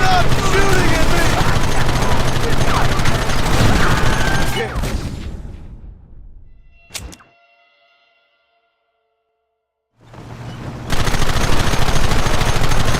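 Rapid gunfire in a Wild West video game, dense and loud for about five seconds, then fading into near silence broken by a single sharp crack before the barrage returns.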